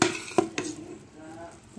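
Glutinous rice being stirred into bubbling latik for biko, with a couple of sharp utensil scrapes and knocks against the pot at the start, followed by a soft sizzle and quieter stirring.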